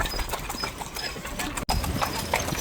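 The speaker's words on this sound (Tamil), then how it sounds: "குதிரை வண்டியில சவாரி உடுப்புக்கு ஏற்ற மாதிரியே குதிரை வண்டி எடுத்து வச்சிருக்காங்க" Horse hooves clip-clopping along a street as a horse-drawn carriage rolls in Tunisia, a quick, regular clatter close by over traffic noise, with a brief sharp break near the end.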